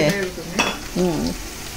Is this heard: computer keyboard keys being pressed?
no